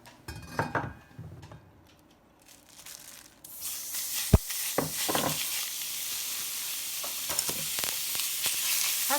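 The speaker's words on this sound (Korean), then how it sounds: "고기를 볶겠습니다" Meat for japchae hits a preheated pan with a loud, steady sizzle that swells and holds, punctuated by a few sharp clacks of a utensil against the pan, with no talking.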